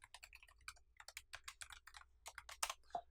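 Rapid keystrokes on a Mac computer keyboard as a password is typed, a quick irregular run of crisp close clicks with brief pauses, ending in a firmer press, with no talk.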